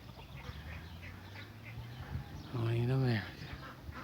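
Ducks on a family farm give a short loud quack near the end, with faint clucking and bird calls in the background and a person talking quietly throughout.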